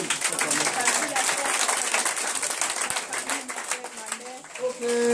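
A church congregation at a Friday worship service cheers and applauds together, a dense, steady wash of clapping and voices that fills the room throughout, swelling slightly at the end.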